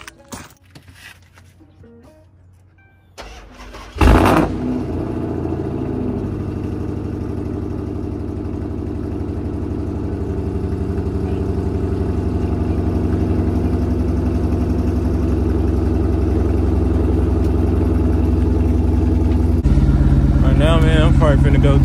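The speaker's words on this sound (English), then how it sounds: "I'm gonna go ahead and give y'all a cold start." A car's engine cold-starts with a sharp crank and catch, then settles into a loud, steady idle that rumbles on and gradually swells louder.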